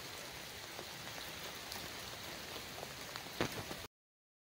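Heavy rain pours steadily at Hatley Castle in Victoria, BC, a dense, continuous hiss of drops striking surfaces close by, with a few sharper splashes standing out near the end.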